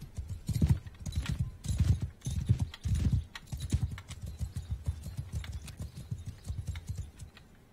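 Galloping horse hooves thud in a steady, rapid clip-clop rhythm while riding in the medieval video game Mount & Blade 2 Bannerlord, close and fairly loud throughout, with a brief whinny-like texture and no talking.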